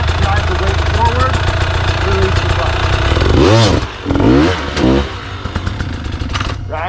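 Dirt motorcycle engine revving hard over rocks on a technical trail, steady loud running with sharp rising and falling revs in bursts near the middle, while someone talks over it throughout.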